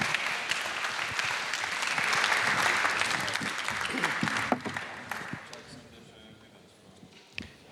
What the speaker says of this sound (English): So welcome again, and give a warm applause.